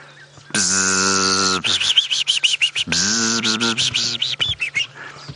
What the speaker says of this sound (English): But I can hear lots and lots of weavers.